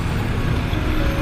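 Road traffic on a busy stretch, heard during a motorcycle test ride, with loud broadband roadway rumble and wind noise, close and continuous, with no voices.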